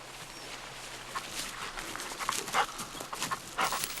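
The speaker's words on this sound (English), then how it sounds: "A dog must never damage the game when retrieving." Hunting dog retrieving a grouse in the field, with soft panting, snuffling and rustling footsteps in straw or grass, close and faint, in bursts over quiet outdoor background.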